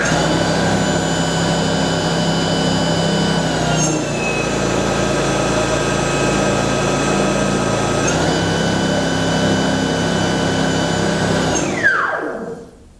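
A Toro 60-volt cordless snow blower runs with a loud, steady electric whine, its pitch shifting at mode changes between eco and regular, then winding down with a falling tone as it shuts off.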